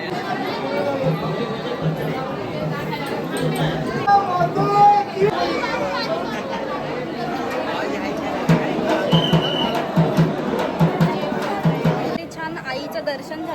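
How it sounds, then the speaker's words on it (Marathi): Dense crowd chatter fills a slow-moving weekend queue at the Ekvira temple, with many overlapping adult and children's voices close by and a steady hubbub throughout. "लाईन पुढेच सरकत नाही आहे आता थोडी थोडी लाईन पुढे सरकते जरा जास्तच गर्दी आहे"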